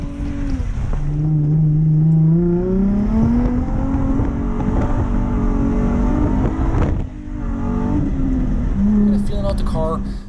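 Drift car on Work VSKF wheels driving a track at a Topp Drift season opener, engine revving up and down with rising and falling pitch, loud and close, while someone talks over it.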